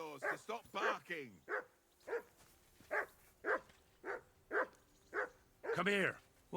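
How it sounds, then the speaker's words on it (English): A dog barking in the video game Kingdom Come Deliverance 2, a series of about a dozen sharp, evenly spaced barks and yips at moderate distance, with a louder final bark. "Henry, whistle at that mutt of yours to stop barking"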